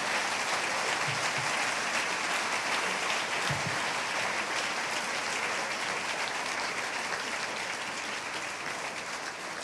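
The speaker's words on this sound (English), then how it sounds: "Could everybody please rise and applaud the accomplishments of Constance Sullivan as she takes the podium for a valedictorian" A large graduation audience applauds a valedictorian at a 2018 senior graduation, steady dense clapping from a crowd filling the hall, sustained at an even level for nearly ten seconds.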